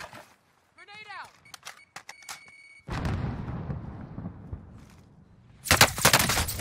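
Video game gunfire and a grenade blast in Warzone: scattered shots and a short voice, then a heavy explosion rumbling for a few seconds, followed by a sharp burst of loud gunfire near the end.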